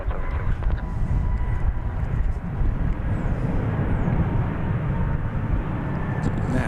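Volaris airliner passing at DFW Airport, a continuous low engine rumble and broadband roar holding steady throughout, with faint talk in the background.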